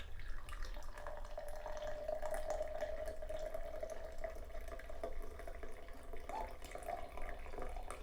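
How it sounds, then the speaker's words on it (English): Coffee pours from the carafe of a Mr. Coffee WeMo Wi-Fi coffee maker in a steady, quiet liquid stream lasting several seconds, heard alone. "it's got a little lever, you press and you pour"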